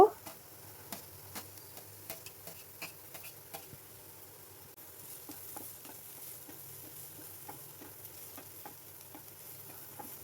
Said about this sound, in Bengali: প্রথমে পেঁয়াজ কুচিটা অল্প সময়ের জন্য নেড়ে নেব। এরপর কুচনো গাজরটা দিয়ে দেব।